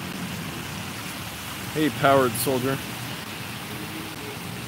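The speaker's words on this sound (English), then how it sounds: "It's been raining for a little while today." Steady rain falling on an Old Town Alexandria street at night, a continuous broadband hiss with a brief stretch of nearby speech over it.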